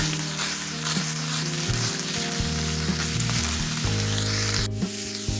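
Adobo, onion powder and creole seasoning stirred through a sizzling pan for baked ravioli, a steady soft frying hiss running throughout beneath continuous background music.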